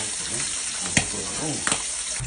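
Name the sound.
milkfish (bangus) steak frying and popping in a pan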